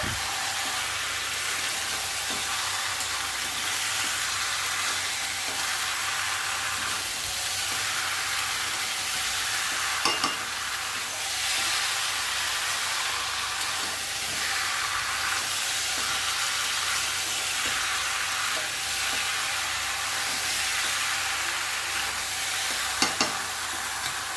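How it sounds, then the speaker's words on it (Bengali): Fried potato pieces cook with spices in a pan under a dense, hissing sizzle that holds steady for a long stretch. Slow, regular scrapes of stirring recur throughout, with a couple of louder knocks, and no voices. "এখন ভেজে রাখা আলুগুলোও দিয়ে দিচ্ছি এর মধ্যে, দিয়ে আবারও কষাবো বেশ কিছুক্ষণ।"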